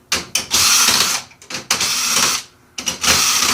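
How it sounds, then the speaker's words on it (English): Sharp plastic clicks and ratcheting snaps as a computer processor is popped out during a teardown for recycling, in several quick bursts separated by brief pauses. "I'm going to go ahead and pop out the processor"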